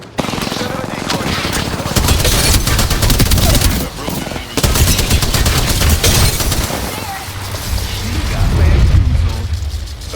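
Dense, continuous automatic weapon fire and explosions in the Apex Legends video game, with a shotgun in play, form a loud, busy barrage that barely lets up, and game voice callouts are mixed in.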